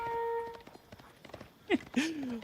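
Horse hooves clip-clopping in a real-time strategy game as a horseman rides out to hunt a sheep, with brief game tones and a sharp whinny-like call near the end.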